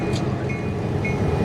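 A caboose train runs at a railroad museum during a Big Boy 4014 celebration, a loud, steady rumble of rolling rail cars close by, with a thin high squeal of wheels on track.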